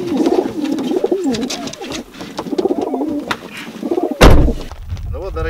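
Racing pigeons in transport crates at a release site before a 106 km training flight coo steadily and close by, with low burbling calls repeating throughout and a brief sharp knock near the end.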